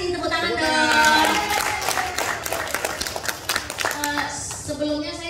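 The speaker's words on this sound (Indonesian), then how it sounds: "Tepuk tangan dong." An audience claps together in a sustained burst that starts strong and thins toward the end, with voices and some cheering mixed into the applause.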